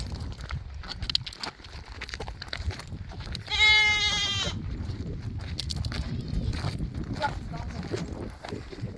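A goat lets out one loud, wavering bleat lasting about a second near a brush pile being burned, standing out over steady outdoor rumble and background noise, with people talking nearby.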